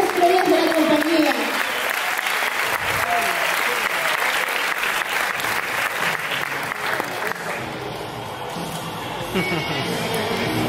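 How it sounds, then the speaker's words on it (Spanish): A business event audience gives a loud, sustained round of applause to welcome speaker Mijaíl Millet, with dense clapping and cheering from a large crowd that carries on for several seconds before easing slightly. "ayúdenme a dar la bienvenida con un fuerte, fuerte aplauso a Mijaíl Millet"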